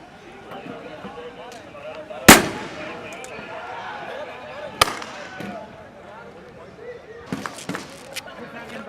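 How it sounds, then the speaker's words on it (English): Grenades fired by police during street clashes on the route from Liaquat Bagh to D-Chowk: one sharp, loud blast, then a second fainter bang and a few distant pops over crowd noise and nearby voices. "The police is still firing grenades."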